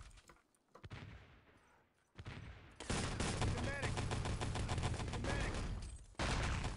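Gunfire in a competitive online shooter match at an international team event, sparse shots at first and then a dense burst of rapid automatic fire and explosions, loud and continuous under faint commentary.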